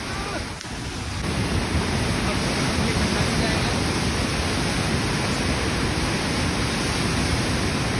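A flooded river rushes through the Sainj valley in Kullu, a loud, unbroken roar of churning water that fills the whole clip after a short dip near the start.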